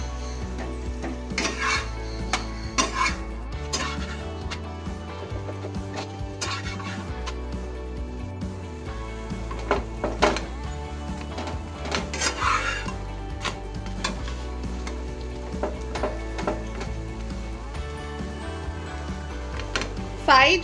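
A methi paratha fries on a greased pan over low to medium flame, pressed down again and again, with soft sizzling, repeated scraping and clinks of a utensil against the pan, and someone talking throughout.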